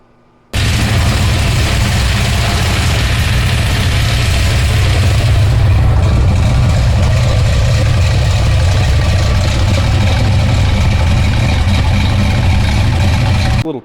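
Black Pearls BBC 540 big-block V8 on an engine test stand, running loud and close through its exhaust with a dense, steady rumble that stays even throughout.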